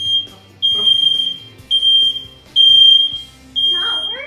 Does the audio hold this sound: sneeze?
no